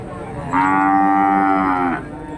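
A Limousin breeding cow at the Glenmore livestock market in Banyuwangi, East Java, gives one loud, close, sustained moo lasting about a second and a half over busy market background noise.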